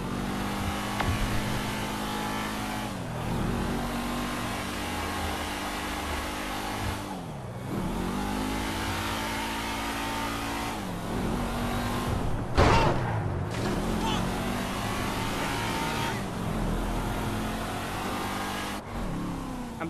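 Cars racing in the video game GTA V: engines rev and roar continuously, pitch climbing and dropping through gear shifts, with a sharp impact or skid around the middle and a steady loud engine drone throughout.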